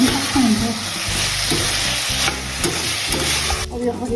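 Fried momo tossed and stirred in chili sauce in a pan, giving a loud, steady sizzle with repeated scraping stirs throughout, close up and without talk.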